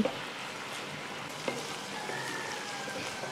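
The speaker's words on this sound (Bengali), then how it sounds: "ভালো করে নেড়েচেড়ে কষিয়ে নেব" Mustard paste fries in a pan with slit green chillies, giving a steady close sizzle with soft scraping stirs and a small clink partway through.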